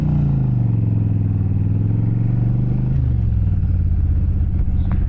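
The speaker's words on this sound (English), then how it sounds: "This is a Yamaha V-Star 1100." A Yamaha V-Star 1100 motorcycle idles close by, a deep, steady V-twin rumble that lopes evenly with a slight dip in pitch partway through.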